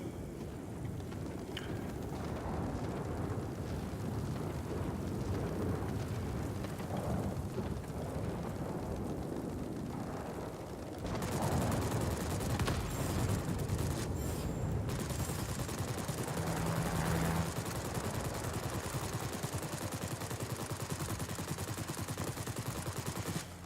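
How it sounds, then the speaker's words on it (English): Rapid, dense machine gun fire from an F11C-2 biplane in World of Warplanes rattles almost continuously, loud and close, layered over a constant engine roar with no talking. "I don't think a pair of machine guns is going to do that much damage."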